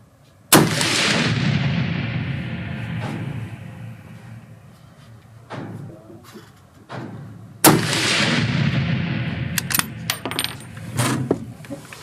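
Two loud, echoing gunshots from a scoped bolt-action rifle at a shooting range in Belgium ring out several seconds apart, with fainter bangs from other shooters between them and no talking.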